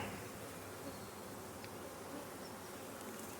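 Honeybees from a collected swarm buzzing steadily inside a hive box, a dense continuous hum close by with no voices.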